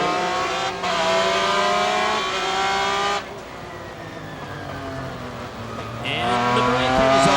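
Race cars at an American Le Mans Series round at Monterey brake and pass, with engines whining and downshifting, tires squealing, one car fading off before another screams in loudly.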